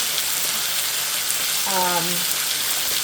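Chicken and vegetables stir-frying in a pan over high heat, a steady loud sizzle throughout with a brief tonal whine partway through.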